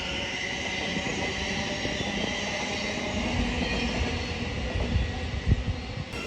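A Class 700 electric passenger train departs Cambridge South station, rumbling and whirring steadily past at close range, wheels clattering over the rails with a high electric whine throughout.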